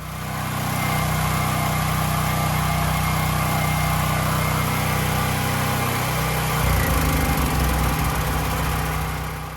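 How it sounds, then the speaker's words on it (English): A portable generator with its CO sensor bypassed runs loud and steady nearby, a constant engine drone with a slight change in tone near the end as another generator beside it shuts down. "We shut down the generator next to it. This one is still running strong."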